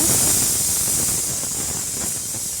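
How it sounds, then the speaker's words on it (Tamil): Shallots and garlic sauté in a little oil in a deep frying pan, a steady close sizzling hiss that holds evenly throughout with no voices. "வடை சட்டியில் கொஞ்சமாக எண்ணெய் விட்டு ஒரு கை ஃபுல்லாக சின்ன வெங்காயத்தையும் 4 பல் பூண்டையும் போட்டு நல்லா வணக்கிக்கலாங்க"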